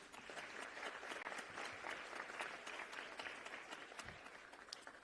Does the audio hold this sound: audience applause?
yes